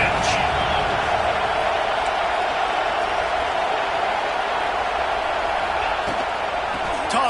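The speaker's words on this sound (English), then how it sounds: "this crowd is at fever pitch" A packed football stadium crowd roars steadily at a third-down play in the red zone. The loud, unbroken wash of cheering runs the whole time, with faint calls inside it.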